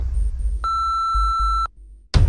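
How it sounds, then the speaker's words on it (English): A voicemail answering machine gives a single clean electronic beep lasting about a second, clear and alone after a faint hum, then a short burst of noise at the end. "Leave me a message at the beep."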